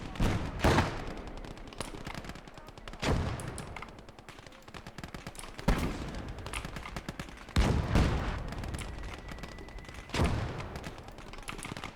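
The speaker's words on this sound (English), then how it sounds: "We're gonna put that everyone fires at will. Mortars fire." Sustained gunfire and mortar fire from a World War II battle in the game Gates of Hell: Ostfront, a winter war setting: rattling machine-gun bursts with heavy booming impacts every two to three seconds, loud and continuous.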